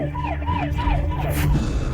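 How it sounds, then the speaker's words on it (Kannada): A siren wails in repeated rising and falling sweeps over a low rumbling background, loud and fairly close, with no talk. "ಅದೇ ಸಮಯದಲ್ಲಿ ಎಲ್ಲರಿಗೂ ಸೈರನ್ ಶಬ್ದ ಕೇಳಿಸಿತು"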